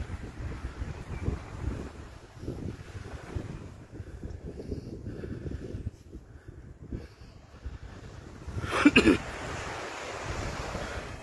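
Sea waves break on the shore at Keelathottam beach near Rajamadam in Thanjavur district, a rolling, uneven surf wash under gusty wind noise on the microphone, with a louder burst near the end.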